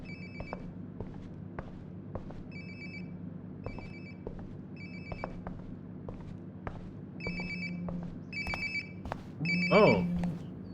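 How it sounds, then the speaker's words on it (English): A phone rings nearby in Life is Strange: Before the Storm, repeated bursts of bright electronic trills in a steady pattern over a low ambient hum, with soft footsteps and a brief voice near the end. "Sounds like my phone is definitely nearby."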